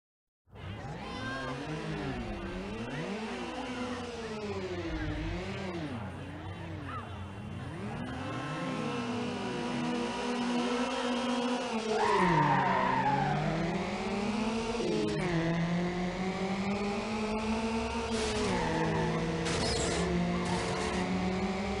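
Racing cars in Need for Speed Underground, a close engine that keeps revving up and down through gear changes with tire squeal, alongside rival Mazda Miatas, loud and continuous throughout.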